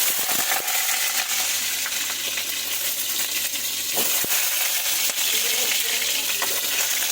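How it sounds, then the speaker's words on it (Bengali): Vegetables (stalks and potatoes) frying in hot oil in a wok: a dense, close, steady hiss and sizzle throughout, broken by a few sharp crackles and pops. "কড়াইতে আমি তেলও দিয়ে দিয়েছি দিয়ে কিন্তু আমি আগে ভেজে নেবো একটুখানি"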